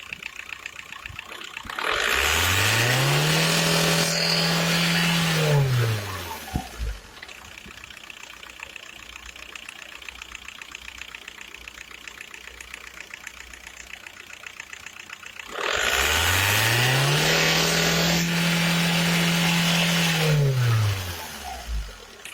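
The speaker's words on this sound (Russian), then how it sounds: "И второй человек будет газовать, развивать обороты на двигателе." A turbocharged car engine revs up twice, each time climbing to a loud sustained roar as the turbo builds pressure, holding for a few seconds before dropping back to a steady idle between bursts.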